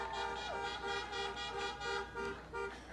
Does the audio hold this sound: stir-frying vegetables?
no